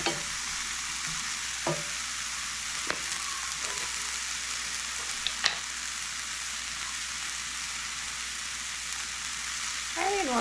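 Vegetables for egg roll in a bowl, including stems cooking down, sizzle and fry softly in a pan, a steady low crackle with a few faint clicks of stirring, alone without talk.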